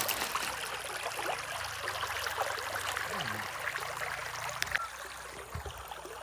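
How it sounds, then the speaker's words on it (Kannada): A river flowing near a village grove: a continuous broadband rush of water, steady and fairly close, with a faint low hum and a few brief clicks over it. "ನೀರು ಹಾಪು ಸೌಂಡ್ ಕೇಳಲಿಕ್ಕೆ ಒಂಥರ ಮಜಾ"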